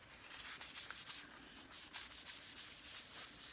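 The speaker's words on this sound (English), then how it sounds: "wipe off any excess you got" A cloth wipes excess finish off a dry piece of scrap wood used for making utensils, giving a close, quiet run of rhythmic rubbing strokes with no voices.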